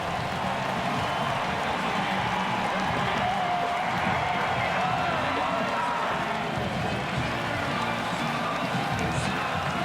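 A large football stadium crowd at Mosaic Stadium cheers a touchdown in a Canadian Football League game between the Winnipeg Blue Bombers and Saskatchewan Roughriders, a steady roaring wall of cheering and applause under broadcast commentary.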